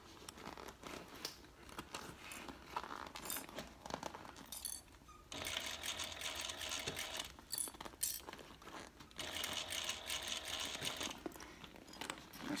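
A sewing machine runs in bursts along the curved edges of a handbag, joining the bottom to the band, with short bouts of steady whirring separated by pauses and small handling clinks.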